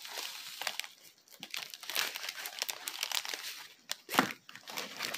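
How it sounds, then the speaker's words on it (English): Paper is rolled up by hand, producing loud, close crinkling and crackling in irregular bursts, with a few sharper crunches and no talking. "Paper is loud, so I know they can hear it, but I'm just trying to roll it up."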